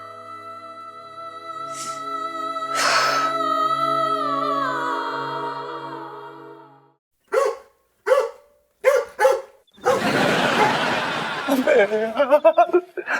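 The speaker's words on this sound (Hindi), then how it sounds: "ये जो आपकी गली के कुत्ते हैं ना हमें काट लेंगे यार।" Street dogs in a neighborhood lane bark in a quick run of sharp, loud yelps near the end, following longer stretches of voices and laughter.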